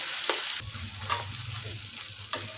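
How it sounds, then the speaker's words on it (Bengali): A spatula scrapes and stirs potatoes in a wok every second or so over a soft, continuous sizzle of frying. "এখন আলুটা খুব ভালোভাবে নাড়তে হবে"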